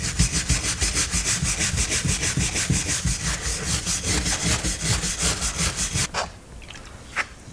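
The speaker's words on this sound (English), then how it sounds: "that rust is coming off with my fingernail" Rust being scraped off an old axe head found in the woods, using a fingernail: a rapid, steady run of rhythmic scraping strokes for about six seconds, then two brief isolated scrapes after a pause, close and fairly loud.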